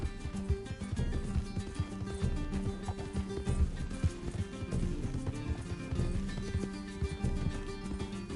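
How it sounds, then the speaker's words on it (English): Rapid clip-clop of a galloping horse in a PS4 video game, steady and close under a busy music or game soundtrack, with no talk heard. "Can't this horse go any faster?"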